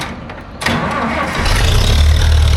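A small farm engine with the choke pulled cranks briefly, then catches and fires up into a loud, rough running rumble that builds and settles into a steady idle close by.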